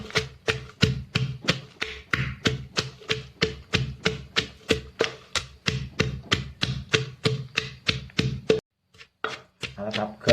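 Ingredients for catfish lam pounded coarsely in a mortar, a fast steady run of sharp thuds about three per second, close and loud, then a brief pause with a few softer knocks.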